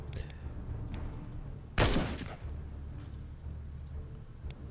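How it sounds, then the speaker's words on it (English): A single burst of gunfire at an enemy in the turn-based game Xenonauts 2, one sharp loud crack that fades quickly over quiet background with scattered faint clicks. "now I can shoot at him"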